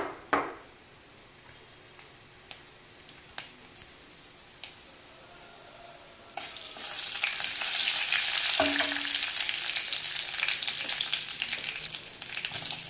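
Tempering spices such as chillies hit hot oil for a roasted white brinjal chutney. Quiet scattered clicks and taps lead into a loud crackling sizzle that starts suddenly partway through and keeps spitting steadily to the end.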